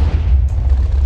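A deep, rumbling explosion in a Minecraft-style game, loud and sustained with heavy low-end boom across the whole moment and no talking over it.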